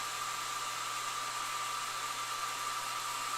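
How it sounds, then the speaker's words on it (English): A hair dryer blows continuously with a steady, even whir and airy hiss, running alone without any talk. "Is the hairdryer really loud?"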